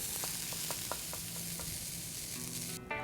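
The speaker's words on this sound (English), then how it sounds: "All right, so just starting to sizzle and get a little bit of color." Prosciutto toasts in a dry pan with a steady crackling sizzle and a few sharp pops and spatters, close and continuous, with no voices.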